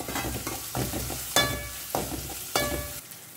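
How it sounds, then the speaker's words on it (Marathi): Green chili and grated ginger frying in a pan, a steady close sizzle broken by several sharp stirring scrapes and clatters at irregular intervals, with no voice over it. "हांवें ग्रेट करून घेतला तो घालता आनी जस्ट ताका एक मिनीट आमकां हें बरें फ्राय करून घेवंक जाय"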